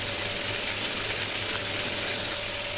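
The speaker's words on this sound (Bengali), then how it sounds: "পাখা চলছে আর আমি রান্না করছি।" An electric ceiling fan running in a hot home kitchen during cooking, making a steady, even whooshing hum that holds constant with no breaks.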